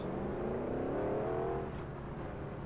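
Ford Raptor truck engine in the racing game Forza Horizon 2, a steady loud revving drone that climbs in pitch and then eases off, alone with no talk.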